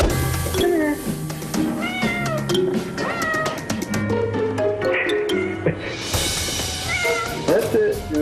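An overweight cat meows repeatedly, close and loud, with drawn-out, wavering cries that come in several bursts, while a person's coaxing voice talks alongside.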